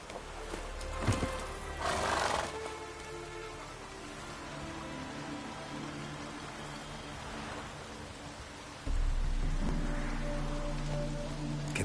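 Roach, the player's horse in The Witcher 3, gives a neigh among game ambience, with a broad swell of noise near the start and a low rumble returning later; no one speaks.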